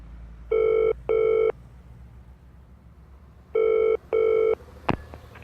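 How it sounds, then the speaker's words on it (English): A landline telephone rings in two classic double bursts, a pause, then two more, loud and close, ending with a sharp click as the receiver is picked up, in a quiet indoor setting. "So I found my phone and called Wing."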